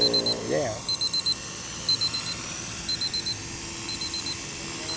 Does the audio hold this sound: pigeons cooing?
no